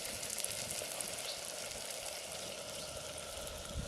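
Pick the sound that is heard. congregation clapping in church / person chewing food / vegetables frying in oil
vegetables frying in oil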